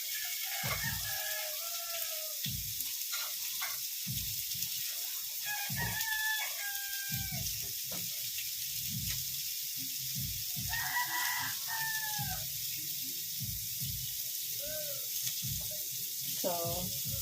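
Live chickens cluck and a rooster crows several times nearby while chicken afritada is being cooked. Mechanical clicking and clattering are mixed in, and a voice talks intermittently.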